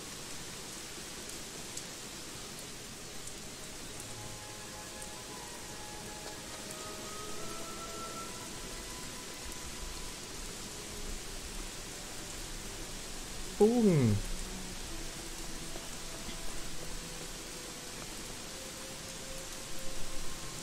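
Steady rainfall in the Gothic 3 game world, a soft hiss of even drops running throughout at low level, with someone speaking briefly partway through.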